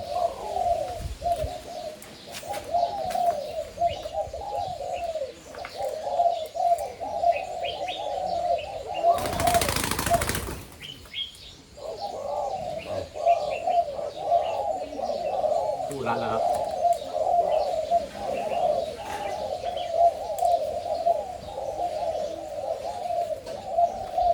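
Pigeons cooing steadily in a loft, a continuous overlapping chorus of soft rhythmic coos close by, broken briefly by a loud burst of wing flapping or rustling, with someone talking intermittently over it.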